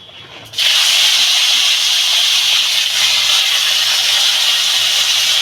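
Washed jujubes tipped into hot mustard oil, setting off a sudden loud, steady sizzle that bursts in after a brief quieter moment and keeps hissing evenly to the end.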